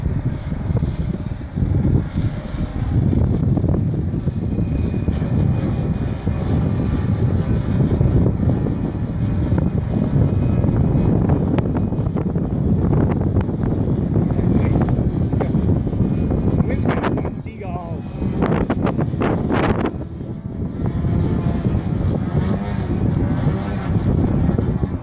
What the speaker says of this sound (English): Oh, the wind's just dropped off slightly.